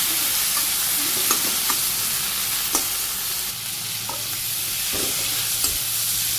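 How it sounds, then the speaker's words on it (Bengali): Okra and potatoes sautéed with salt, turmeric, dried and green chillies in a village kitchen pan: a constant dense sizzle with a few light spatula taps and scrapes spread through, close and unvoiced. "লবণ হলুদের গুঁড়া শুকনো মরিচ কাঁচা মরিচ তখন কষিয়ে নিই"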